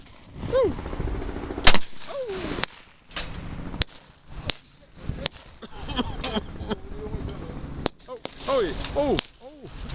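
Small cannon firing at a WW2 reenactment at an air show in Malle, Belgium: several sharp, loud reports scattered through the clip, with voices calling out between shots.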